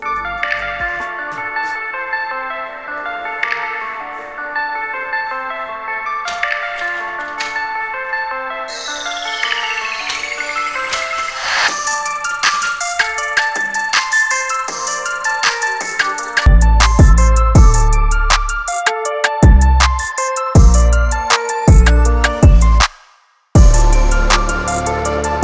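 Music with ringtone-like melodic tones and later punchy bass beats plays through the dual stereo speakers of a POCO X3 NFC budget mid-range phone, steady and fairly loud, with a brief dropout near the end.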